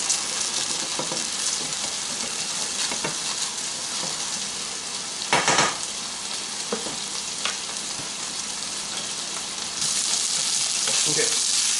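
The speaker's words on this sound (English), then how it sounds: "And let that grill for probably a good 2-3 minutes on the one side before we flip it over." A Frita Cubana burger patty sizzles steadily in a hot pan, a dense continuous frying hiss broken by occasional sharper pops and crackles.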